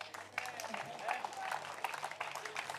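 A church congregation applauds during a healing service, a soft, distant spatter of clapping with scattered sharper claps and a faint murmur of voices underneath, fairly quiet overall.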